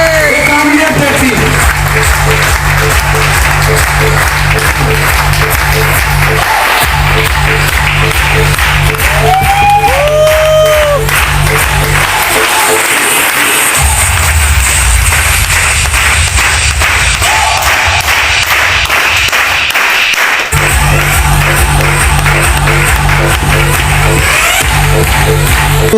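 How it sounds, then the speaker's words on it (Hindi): A seated audience at a motivational business gathering claps and cheers loudly, sustained applause with whoops layered over a thumping music bed throughout, briefly dipping midway before surging again. "जोरदार ताली साथ जोरदार सम्मान करेंगे सर को"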